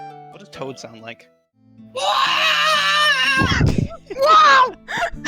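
A person imitates the high-pitched screaming voice of Toad, the Mario mushroom character, with loud sustained wailing cries between bits of other vocal sound.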